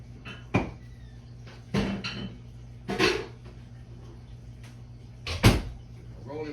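A rolling pin is fetched in a kitchen while biscuits are being made, heard as several separate knocks and clunks of wood against counter and cupboard, with a voice talking in between.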